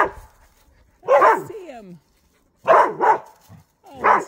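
Australian shepherd puppies yip and bark in short, high, close bursts, three separate outbursts with quiet gaps between them, while a person speaks briefly.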